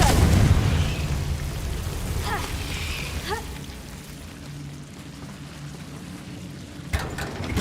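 A Confringo fire spell blasts in Hogwarts Legacy, a loud boomy burst up front that fades into a low crackling rumble, with a couple of sharp zipping spell sounds and another small pop near the end.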